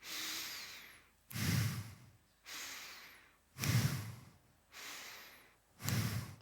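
Connected breathwork breathing with no pause between breaths: slow airy inhales alternate with heavier, louder exhales in an even rhythm, three full cycles, close and alone.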